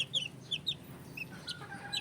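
Hen clucking inside a brooder pen, a run of short bright clucks and chirps in quick succession over a low steady background hum, fairly close and moderately loud.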